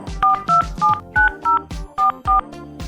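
Telephone keypad tones punched in quick succession as a number is dialed, about nine loud dual-pitch beeps in a steady rhythm, close and clear without talk.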